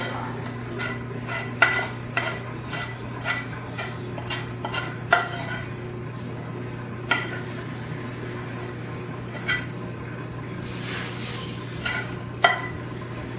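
A spoon scrapes a quickly hardening mixture out of a bowl into a pan, a series of close clinks and scrapes over a constant appliance hum, with no one speaking.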